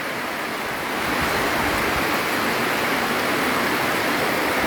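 Heavy rain pours steadily during a flood in Sentani, Jayapura, a dense, constant hiss that swells slightly louder after the first second and fills the whole stretch.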